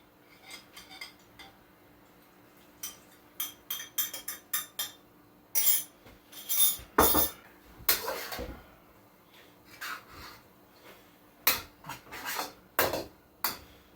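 Beef and noodle stir-fry (beef chow fun) being tossed with sauce in a pan, giving irregular metallic scrapes and clinks of utensils against the pan, some louder bursts, with no talking.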